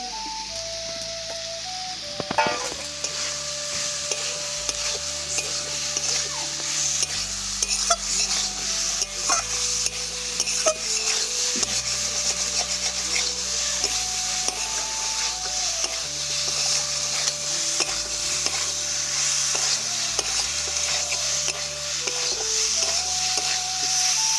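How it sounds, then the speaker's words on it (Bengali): Mushrooms and potatoes are stir-fried together in a pan for a Bengali mushroom masala, with a spatula scraping and stirring over a steady sizzle. The cooking is close and continuous, with background music playing throughout. "মাশরুমটা খানিকক্ষণ কষিয়েছি, এবার এর সাথে আলু দিয়ে আরো খানিকক্ষণ কষাবো।"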